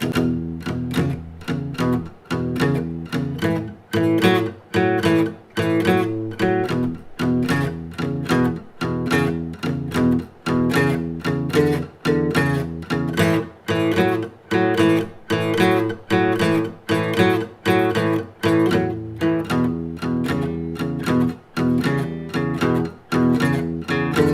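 An old-school 12-bar blues plays on guitar, steady rhythmic strummed chords with regular accents, sustained and unaccompanied by speech throughout.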